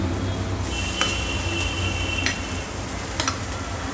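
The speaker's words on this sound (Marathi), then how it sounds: "भात पण थोडासा वरखाली परतून घेऊया" Cooked rice with mushrooms being stir-fried in a pan for mushroom fried rice, a steady loud sizzle broken by a few sharp scrapes and clinks of the spatula against the pan.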